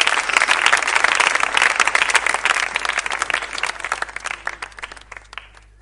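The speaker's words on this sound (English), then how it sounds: "Come on, keep on clapping" A crowd applauds loudly and steadily at the launch event for season 4 of The Pulpit, the dense clapping holding strong before gradually thinning and fading toward the end.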